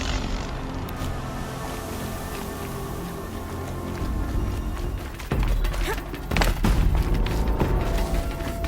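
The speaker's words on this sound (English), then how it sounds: "Explosions and shouts from outside the Embrace." Explosions and shouts from outside the Embrace in the video game Horizon Zero Dawn: a steady game ambience builds into heavy booming thumps and bursts in the second half, fairly loud with muffled crowd-like noise.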